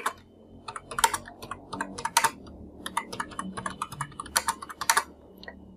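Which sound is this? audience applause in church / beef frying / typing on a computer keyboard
typing on a computer keyboard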